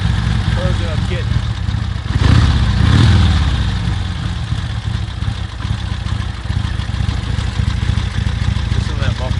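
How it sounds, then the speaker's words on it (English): A 1977 Harley-Davidson XLCR1000 Café Racer V-twin engine rumbles low and steady through dual exhaust close by, swelling briefly partway through, while someone talks over it. "Listen to the rumble of the dual exhaust."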